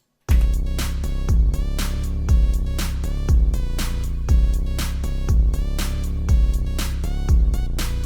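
A bright synth melody plays within a full electronic mix, with punchy regular kick-like hits driving a steady beat throughout.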